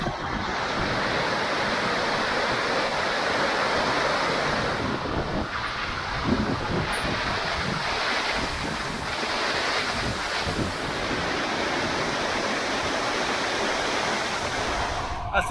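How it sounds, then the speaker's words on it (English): Ocean surf rolls onto a beach in a constant heavy wash, loud and close, with wind buffeting the microphone throughout. "So there's the beach."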